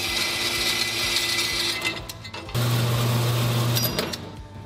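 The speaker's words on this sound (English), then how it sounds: "I'm gonna use the bandsaw." Bandsaw cutting a frame piece for a homemade vacuum table, a loud steady mechanical whine that dips briefly partway through, then resumes with a pronounced low hum before easing off.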